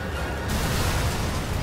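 An explosion in the horror video game The Evil Within bursts as a dense, loud rumbling blast that fills the short moment with broad noise and no talk.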